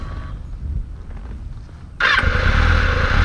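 Kawasaki Ninja motorcycle pulling away nearby, a quiet idle suddenly rising into a loud, steady engine roar that continues to the end.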